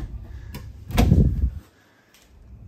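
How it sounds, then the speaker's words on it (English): A storage compartment under the kitchen of a 2022 Keystone Sprinter travel trailer is opened, a short hollow thump and rustle, with a couple of faint clicks around it. "Open this up and you have a huge compartment under here."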